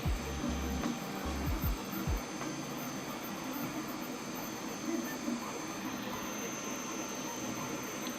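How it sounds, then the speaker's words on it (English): A 3D printer runs with no noise cancellation, giving a steady whirring hum of its motors throughout, with a few low thumps near the start. "Here's the printer printing without any noise cancellation."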